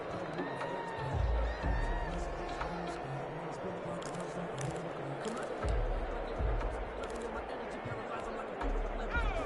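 Stadium crowd noise in an American football video game, a continuous broad roar of murmuring fans with occasional swells and thuds, heard steadily under a play-by-play commentator's voice.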